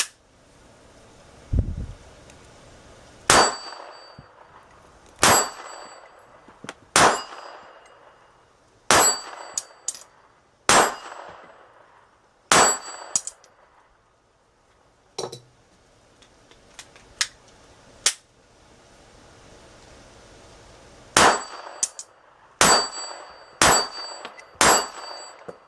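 A Kahr CW380 pistol fires about fourteen sharp, loud shots, some spaced and some in quick pairs, over half a minute at a range, with quiet gaps between them and no talking.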